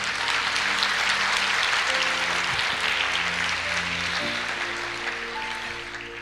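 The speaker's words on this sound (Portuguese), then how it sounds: "Pode aplaudir o Senhor." A Portuguese-speaking congregation applauds the Lord at the close of a sermon, a dense, sustained wash of many hands clapping that fills the room and slowly tapers, with no voices over it.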